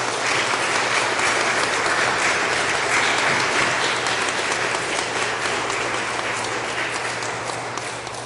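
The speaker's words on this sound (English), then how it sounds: "Let us show a round of applause." A Lutheran church congregation applauds newly welcomed confirmands, a full, even round of clapping that holds for about eight seconds and eases slightly toward the end, with no speech.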